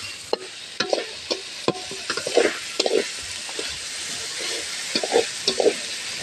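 Hilsa fish with spices is stir-fried in a pan over a clay stove: steady close sizzling with repeated scraping, stirring strokes of a spatula in an uneven rhythm, no talk.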